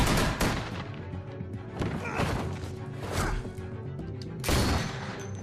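Gunfire in the video game The Walking Dead: A New Frontier, several sharp cracks and heavy thuds mixed with crashing impacts, loud and close, with bursts of game sound around them.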